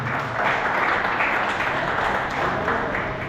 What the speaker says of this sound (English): And a big clap for Stephen.